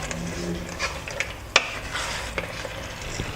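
A spoon stirs Ghana egg stew in a pot over sizzling heat, with scraping strokes, a sharp clink against the pot and a low frying hiss underneath, close up and wordless.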